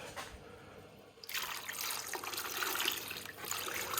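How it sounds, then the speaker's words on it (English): A cut dendritic opal is rinsed under a running tap, a steady broadband trickle and splash of water that starts abruptly partway through and continues close and fairly loud to the end. "And a bit of a rinse."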